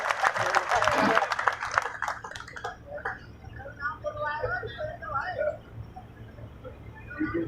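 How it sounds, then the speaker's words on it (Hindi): At a BJP Jan Hunkar political rally at Company Bagh in Alwar, a crowd bursts into loud, dense applause that dies away within a couple of seconds as talking continues. "जोरदार ताली बजा के दिखा दो एक बार, जोरदार ताली इन सब के लिए"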